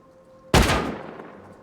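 A single loud gunshot in the Rust video game cracks out sharply after a quiet moment, its blast decaying over about a second into a fading tail, with no voices.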